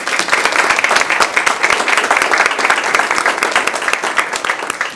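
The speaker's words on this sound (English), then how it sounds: "Can we give them a round of applause?" A crowd at a school district board meeting gives a loud, dense round of applause that stays steady and continuous from start to finish.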